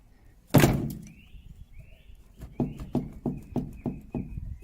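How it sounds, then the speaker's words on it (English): A car door closing on a 1950s-style Austin A125 Sheerline with rusty arches and a loose body: one loud heavy thunk, followed by a series of softer rhythmic knocks and rattles from the panels. "I'll try and hold this straight whilst I close the door"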